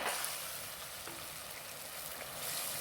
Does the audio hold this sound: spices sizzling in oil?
yes